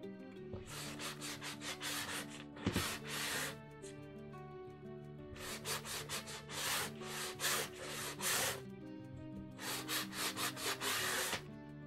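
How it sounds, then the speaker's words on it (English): Sandpaper rubs along the rough back edge of a wooden craft sign in repeated bursts of close, steady scraping strokes, with short pauses between groups of strokes and no talking. "So just take your sandpaper and smooth that out."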